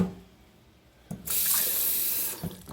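A kitchen tap runs to cool hot bone broth: a short handling knock, then a loud gush of running water for about a second before it shuts off.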